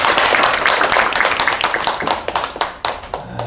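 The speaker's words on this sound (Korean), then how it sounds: "이럴 때 박수도 쳐주셔야 돼요." An audience at a chamber of commerce lecture in Gwangju claps together, a loud, dense burst of many hands that thins out into scattered individual claps before dying away.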